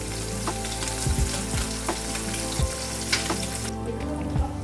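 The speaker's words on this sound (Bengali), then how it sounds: "যতক্ষণ পুঁটি মাছটা ভাজা হচ্ছে" Small puti fish fry in hot oil in a pan, giving a loud, steady sizzle close by. Occasional sharper pops and clinks break through the crackle.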